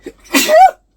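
A single close, sharp sneeze: a brief intake of breath followed by an abrupt explosive burst that ends quickly.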